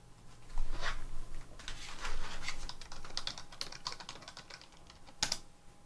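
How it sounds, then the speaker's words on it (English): Fingers type on a computer keyboard nearby in quick, irregular bursts of clicking keys, moderately loud with no talk over it. "Now that is not at all what I was typing on."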